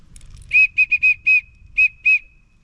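Short whistle from a backpacking kit blown in about seven quick, clear toots of varying length, some in rapid pairs, close and loud, with faint low rumble beneath.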